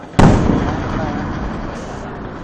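A single sharp gunshot-like blast rings out during a Thai military training exercise at Wang Nam Khiao, loud and close, followed by a long decaying rumble and echo.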